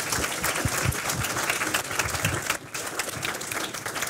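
Audience applause at a journalism master class, a lively burst of clapping from many people, fairly close and sustained, with a brief dip near the end.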